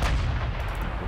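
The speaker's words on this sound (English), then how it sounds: "And fire all of our guns at once." Battleship main guns fire a salvo in the naval game Ultimate Admiral Dreadnoughts, during a Yamato versus Iowa battle. A heavy, booming blast of artillery rolls out at once and fills the moment, loud and close.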